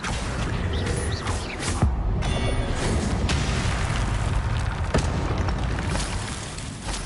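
Loud, continuous game audio from Hogwarts Legacy: Confringo blasting-spell explosions with booming bursts and crashes layered over dense combat effects, with no voices.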